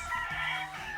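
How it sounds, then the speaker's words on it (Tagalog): Game fowl pullets cluck at a farm, a short burst of soft, close hen vocalizations mixed with faint background chatter of other birds. "Nagpalit na kasi kami ng pullets na ginagamit sa day old natin. Ayan na sila ngayon."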